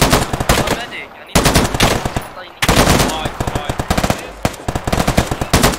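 Machine gun fire in the Afghanistan 1980 combat game: loud, dense bursts of rapid shots separated by brief pauses, close and dominant throughout.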